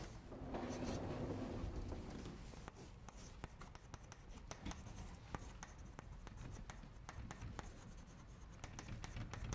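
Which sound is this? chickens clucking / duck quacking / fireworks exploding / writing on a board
writing on a board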